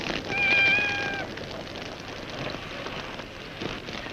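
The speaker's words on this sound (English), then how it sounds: "We've only got a cat. Nice kitty." A cat gives one short meow early on, heard over a steady patter of rain on a surface that continues alone afterward.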